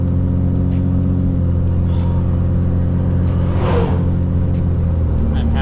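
A 2007 truck with a 6.7 Cummins diesel and 68RFE transmission driving, a loud steady low engine rumble from inside the cab with a few brief clicks and a voice talking.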